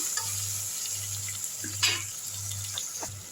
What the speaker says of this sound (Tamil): உதிரியாக வெங்காயம் வதங்கிடுச்சு தக்காளி போட்டுக்கலாம் அதுவும் வதங்கிட்டு இருக்கட்டும்